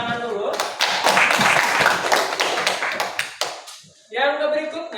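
Students in a classroom applaud in a burst of dense clapping lasting a few seconds, fading out before a teacher's voice resumes talking.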